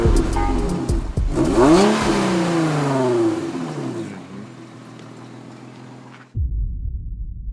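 Car engine revved hard in bursts, rising and falling sharply, then settling to a steady idle before cutting off and restarting, loud and close with no talk.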